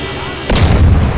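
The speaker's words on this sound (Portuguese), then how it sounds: "Vamos ver se eu consigo soltar uma granada pra ver" A grenade blows up in GTA with a ragdoll physics mod: a sudden loud, deep boom cuts in halfway through after a quieter stretch, and a rumbling tail follows.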